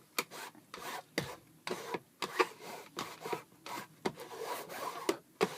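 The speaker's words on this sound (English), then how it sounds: "I'm going to rub it on there." Something is rubbed by hand over a cardboard food-box house model, giving quiet, irregular scratchy strokes in short bursts with brief pauses between them, close up and soft.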